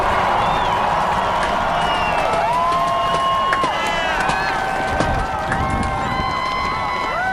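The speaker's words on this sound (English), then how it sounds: "The immense crowd salutes and applauds the 44th President, Barack Obama, after that inaugural address" An immense crowd on the west front of the Capitol applauds and cheers the 44th President, Barack Obama, after his inaugural address: a dense, steady roar of clapping and voices, with whistles and shouts rising through it.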